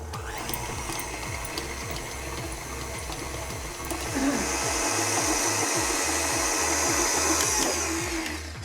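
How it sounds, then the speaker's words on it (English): A stand mixer beats unsalted butter with a rhythmic, churning whir and steady thumping of the paddle, growing louder and fuller midway through as it keeps running continuously. "I'm going to pop that in my mixer and I'm going to mix this up for about 5 minutes"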